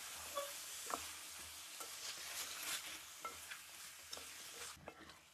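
Minced mutton keema being stirred in a pan, a faint sizzle with soft intermittent scraping and tapping of a spoon, quiet and close.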